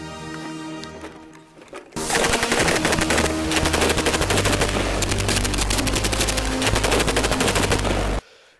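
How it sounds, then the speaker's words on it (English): A PKM general purpose machine gun fires a long, loud, sustained automatic burst of rapid shots lasting about six seconds, stopping abruptly at the end. "And this is the PKM, the general purpose machine gun of the not so free world."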